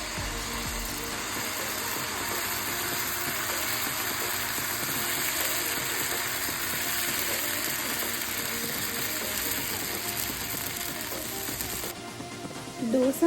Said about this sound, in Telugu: ఇప్పుడు బటర్ కారం దోశ వేస్తున్నానండి.